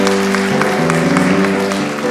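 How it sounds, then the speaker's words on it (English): Congregation applauding during a Shabbat service, loud clapping layered over sustained music with steady tones underneath, the music dominating while claps patter through. "now you can applaud"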